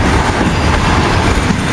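Freight train wagons, including a cement car, rolling past close by with a loud, continuous rumble and rhythmic wheel clatter.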